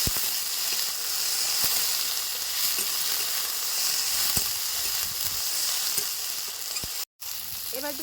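Spices such as nigella seeds sizzling in hot mustard oil in a wok, a continuous loud crackling hiss with occasional clinks and stirring knocks, close up and without talk.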